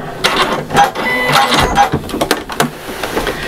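Sewing machine basting a zip onto a fabric bag, running in short, close mechanical bursts with brief pauses between stitching runs.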